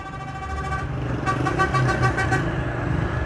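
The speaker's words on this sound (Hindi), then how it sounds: "ये चक्कर जी इस तरफ से डंपर आता हुआ जी" A dumper truck coming along a steep mountain road after rain, engine rumbling throughout with a loud multi-tone horn sounding in short repeated blasts near the middle.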